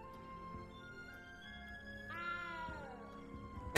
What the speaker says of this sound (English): Oh, the cat's under there.